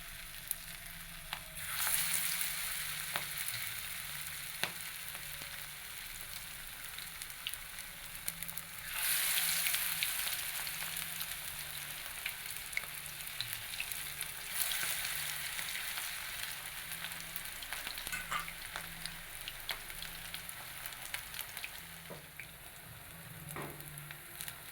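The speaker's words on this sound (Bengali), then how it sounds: "আবার আমি তেলের মধ্যে দিয়ে দিচ্ছি পরের খোলাটা ভাজার জন্য।" Cabbage pakoras deep-frying in hot oil, a continuous bubbling sizzle close by that swells as fresh batter goes in, with occasional clinks and no talk.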